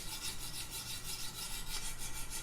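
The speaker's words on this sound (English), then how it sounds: "I'm going to use a scrubbing motion like so." A Chris Reeve knife scrubs back and forth on 200 grit sharpening stones, producing a continuous close rasping with a fast rhythmic pulse.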